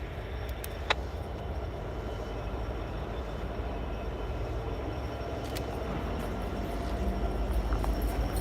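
A CSX freight train led by locomotive 1850 approaches from a distance, a broad low rumble that builds slowly and steadily, heard from high on a cliff with no voices.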